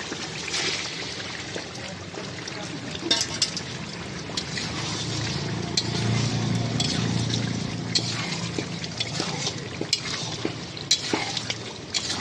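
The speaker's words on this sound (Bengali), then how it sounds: "তো এর মধ্যে আমি আমার কষে রাখা সবজিটা দেবো" Sautéed papaya and potato dropped into frying masala of ginger-cumin paste, tomato and green chilli, giving a steady stirring sizzle with scraping and clinking of a spatula throughout, close and continuous.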